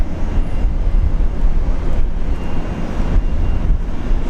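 A Velocity 600 airliner arriving from Mackay at Brisbane Airport sends a steady, loud, broad roar that fills the whole stretch without a break.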